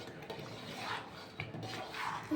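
A spoon slowly stirs semolina in a pan for upma, making soft intermittent scrapes and light metallic clinks against the pan at close range, with no talk.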